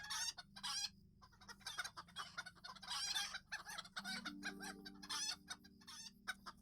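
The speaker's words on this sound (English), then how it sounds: "For 2 chickens, I'm hearing a lot of chicken noises." Several chickens cluck and squawk in a video game, with overlapping bursts of fowl calls through the whole stretch and a drawn-out crow-like call near the end, loud and close.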